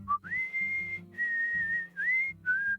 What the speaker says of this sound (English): Tell me she whistles back.